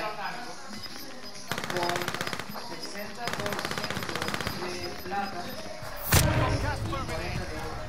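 Bursts of rapid automatic gunfire in Call of Duty: Warzone, two long volleys followed by a sharp loud blast, with faint voices in the background.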